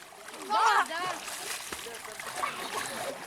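Water splashes as people bathe and swim outdoors on a hot summer day, a burst of splashing near the start followed by lighter sloshing, with voices talking over it.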